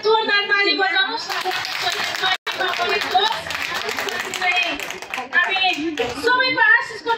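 A church congregation at a Nepali independent church in Kuwait claps loudly and steadily for several seconds, with a brief break midway before the clapping picks up again, and voices mixed in.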